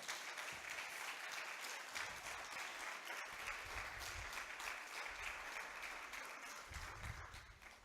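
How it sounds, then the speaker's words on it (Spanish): A church congregation applauds during a Sunday service, a steady, dense wash of many hands clapping that holds evenly for the whole stretch, with a faint voice or two murmuring underneath. "dele un fuerte aplauso al Señor"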